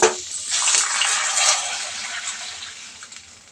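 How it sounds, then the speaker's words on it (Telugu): Water is poured into a pan of vegetables cooked soft in oil, starting with a loud splash and settling into a steady rushing pour that gradually tapers off. "ఇప్పుడు నేను తీసుకున్న క్వాంటిటీకి వాటర్ పోసుకుంటున్నాను"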